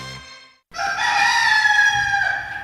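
A rooster lets out one long, loud cock-a-doodle-doo crow close by, ringing and harmonic, after a brief lower sound and a moment of silence.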